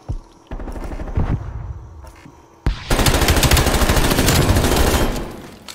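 Gunfire in an online first-person shooter match, with a few scattered shots followed by sustained rapid automatic fire, loud and dense, and no speech over it.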